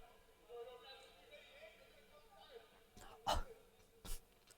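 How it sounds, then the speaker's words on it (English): A short, harsh throat clearing sounds out near the end and is followed by a second rasp, with quiet speech murmuring earlier in the background. "Sorry, I keep clearing my throat."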